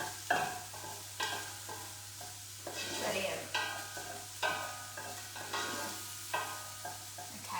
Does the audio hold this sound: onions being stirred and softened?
yes